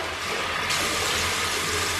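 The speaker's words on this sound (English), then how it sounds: "come to the toilets, wash my face, wash my hands" Water running steadily at a washroom sink while someone washes face and hands, a continuous close rushing stream that gets brighter and fuller partway through.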